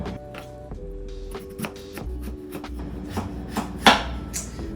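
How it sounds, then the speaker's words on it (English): Knife slicing potatoes thinly on a cutting board for air-fried French fries, a run of close, crisp chopping taps in an uneven rhythm, with one louder sharp cut near the end. "I'll thinly slice potato"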